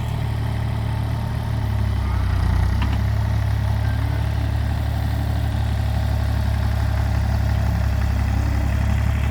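A farm tractor idles steadily nearby, a constant low rumbling drone with mechanical vibration, even in level throughout, with no voices.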